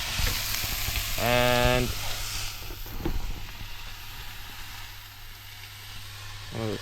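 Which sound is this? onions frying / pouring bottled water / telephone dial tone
onions frying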